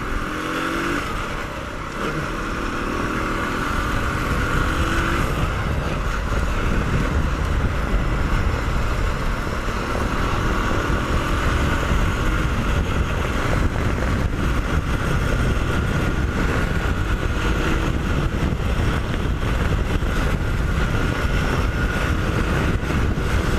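A Rymco Super Cube motorcycle engine roars steadily at top speed with constant loud rumble and wind noise, the drone holding unbroken throughout.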